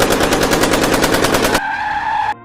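A rapid burst of gunfire, loud repeated shots in quick succession, then an abrupt stop leaving a faint ringing tone.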